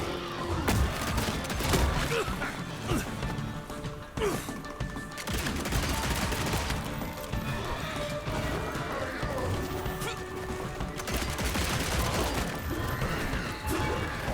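Rapid gunfire in the video game Evil West, dense bursts of shots mixed with heavy smashing melee hits and crashes, loud and continuous through the fight.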